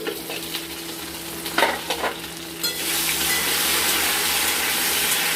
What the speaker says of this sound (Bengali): এবার তো আমরা হালকা ভেজে নিয়েছি।